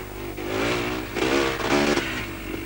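A 1990 Yamaha YZ two-wheel-drive motocross bike engine revs and pulls hard, its buzzy note rising and falling in quick surges over a few seconds, heard close.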